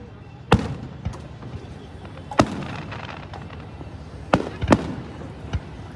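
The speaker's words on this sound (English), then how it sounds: "Some fireworks love to blend in with each other," Fourth of July fireworks pop and bang at irregular intervals, several sharp reports with a couple in quick succession, moderately distant over a low background hum.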